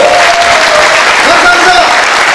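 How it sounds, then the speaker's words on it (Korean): A party convention audience at a Bareunmirae Party leadership election applauds the emergency committee members, a dense, loud, steady clapping with a voice sounding over it. "비대위원께 큰 박수 한번 보내주십시오"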